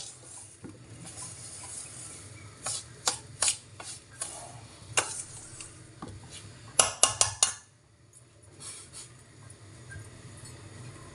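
Spoon mixing rava and curd batter for appe in a bowl, soft scraping with several sharp clinks against the bowl, close and fairly quiet, with no talking.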